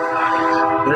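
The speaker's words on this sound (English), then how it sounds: "There's the tequila train." A passing train sounds a loud, sustained horn, blaring steadily and close for the full second.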